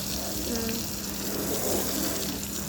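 Water sprays steadily while a vehicle is being washed, a continuous close hiss and splash with no breaks throughout.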